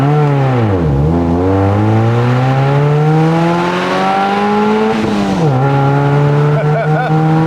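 Loud modified Mazda MX-5 Miata engine revving hard, pitch dropping at each gear change and climbing again in long sweeps, close up and continuous throughout.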